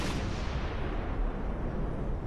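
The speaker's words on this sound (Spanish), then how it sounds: "ordena que se dé un cañonazo desde Guadalupe" A single cannon fired from a fort at Guadalupe as a signal: a deep, sustained rumbling boom with a broad noisy roar that fills the whole clip, loud and close, with no talk.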